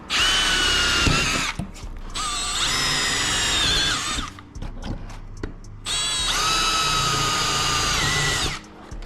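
A power drill whines at high speed in three long bursts, pausing briefly between them, loud and close as it drives a screw into a wooden garage door section.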